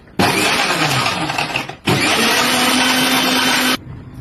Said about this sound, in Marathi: आता झाकण लावून आता मिक्सर चालू करायचा.